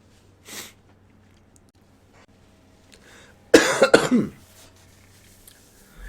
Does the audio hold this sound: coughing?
yes